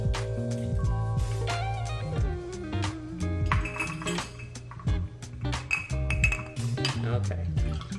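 A drink with ice is transferred into a bourbon glass, giving a steady run of close clinks and rattles of ice cubes against glass over a continuous tonal background.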